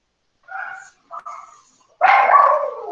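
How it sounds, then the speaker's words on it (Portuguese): A small dog barks and yips indoors in short bursts, rising to one longer, louder bark, close and alone without talk over it. "eu estou com problema com a minha cachorrinha que está latindo aqui dentro"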